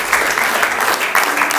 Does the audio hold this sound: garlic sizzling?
no